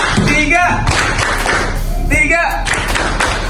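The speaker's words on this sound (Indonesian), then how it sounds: "biar lebih semangat kita tepuk satu dulu. Tepuk 1, 3," A group of people in an Indonesian classroom session clap together in a rhythmic pattern, with several bursts of fairly loud, close hand claps mixed with voices and shuffling.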